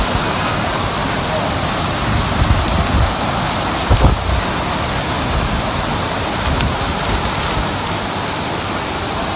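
Hurricane Irma's eyewall over Naples, Florida, with wind and rain roaring at a fourth-floor balcony as a loud, constant wash of broadband noise and occasional heavier gusts and thumps close by.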